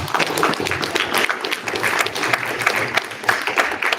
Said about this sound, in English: round of applause for Banana